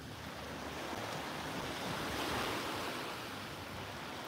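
Sea waves wash steadily onto an Italian beach as a broad, continuous rushing surf that swells slightly in the middle, with some wind buffeting the microphone and no voices.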